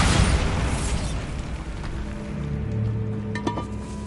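Blasting Bombarda spell explosion in Hogwarts Legacy inside a tomb, a loud broadband boom at the start that rumbles and decays over several seconds, with faint crackles and a small pop near the end.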